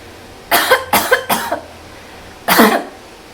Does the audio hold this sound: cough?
yes